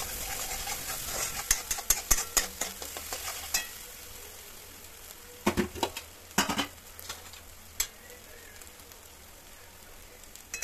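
Spices, black and red chili powder and turmeric, hit hot oil in a tempering for homemade amti dal, giving a steady sizzle broken by sharp clinks and scrapes of a spoon against the pan.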